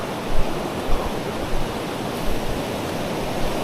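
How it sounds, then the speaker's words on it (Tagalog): Strong river current rushing past near a swimming spot by a river outside Puerto Princesa, a steady, broad wash of flowing water with faint surges, loud and close, with no voices. "Medyo malakas daw ngayon yung agos, sabi nila."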